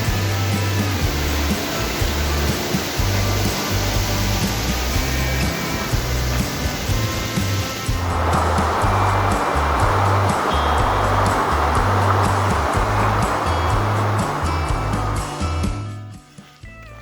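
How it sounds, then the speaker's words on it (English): The Oswegatchie River rushes loudly past a river walk near Cranberry Lake in a steady, close roar that shifts in tone midway and fades out at the very end, with no voices. "It's pretty loud, but it's a river walk."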